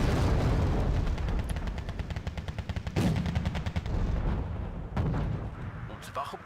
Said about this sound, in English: Oh shit, my artillery took out that T-55.